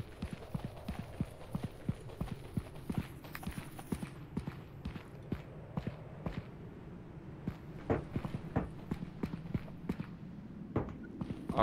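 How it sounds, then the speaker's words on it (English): Footsteps in the game Content Warning, a fast irregular run of sharp clomping steps continuing throughout at fairly close range with no voices. "God, the footsteps in this game are terrible."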